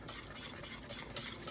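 Gravy for chicken fried chicken, seasoned with salt and pepper, is stirred in a pan, giving soft scraping and a faint sizzle, close and quiet, with no talking.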